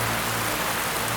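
Rain falls in a steady, dense hiss that fills the whole short moment, with no voices.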